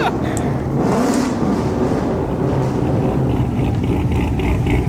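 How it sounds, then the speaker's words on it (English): A Corvette ZR1 muscle car engine roars and revs loudly in a steady, sustained drone while drifting, close and dominant with no pauses. "This car's so damn loud."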